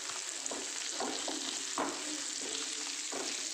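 Chicken sautéing in a pan for a chicken chutney, a continuous close sizzle broken by several soft scraping stir strokes spaced irregularly, with no voices.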